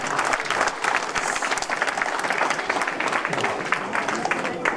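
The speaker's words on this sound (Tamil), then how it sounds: "உங்கள் கரகோஷம் மூலம் அவர்களுக்கு நன்றியை தெரிவித்துக் கொள்ளுங்கள்." An audience at an Indian dance stage show in the Netherlands claps steadily, with dense and sustained applause that fills the hall from start to finish.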